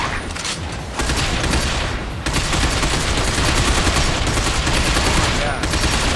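Sustained rapid gunfire in the Binary Domain sewer escape, loud dense bursts of automatic weapons that barely pause, with someone talking over the shooting.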